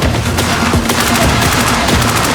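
Dense, loud video game gunfire in a shooter with soldiers and assassins: rapid overlapping bursts and shots with booming impacts, continuous and close throughout.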